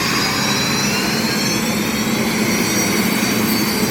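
The U-11 unlimited hydroplane's race boat engine fires up at the dock during the Tri-Cities Water Follies, giving off a loud, steady, jet-like roar with a rushing hiss that never lets up.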